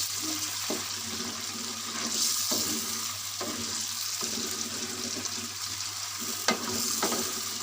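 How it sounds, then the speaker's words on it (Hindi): Garlic sizzles steadily in a hot pan for chicken karahi while a utensil stirs and scrapes at intervals, with a low hum underneath and no voices. "लहसुन ऐड करके अच्छी तरह से इसको भूनेंगे"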